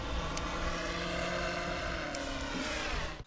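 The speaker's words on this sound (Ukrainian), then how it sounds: "Дрон включив." Propellers of a military drone spinning up at close range, a steady loud whirring buzz with a sustained engine drone holding for about three seconds before cutting off abruptly.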